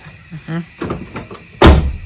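The trunk lid of a 2001 Hyundai Elantra shuts with a single loud, solid thunk at close range, after a few moments of faint shuffling and quiet background sounds.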